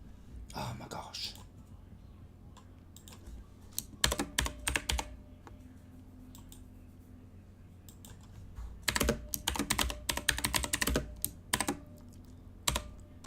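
Fingers type on a computer keyboard in scattered bursts of quick clicking separated by quieter stretches, close and clear, with faint whispered speech in places.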